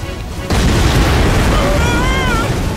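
Huge explosion with a rolling shockwave in the shoot-'em-up video game Astebreed, a sudden loud boom that swells into a sustained roaring rumble, with electronic tones rising over it.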